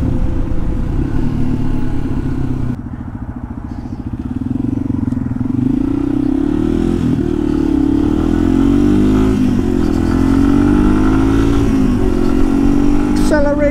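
A Yamaha TW200 motorcycle accelerates hard on a road in Connecticut, its engine note rising and pulling strongly for over ten seconds, loud and close with a brief dip in the middle.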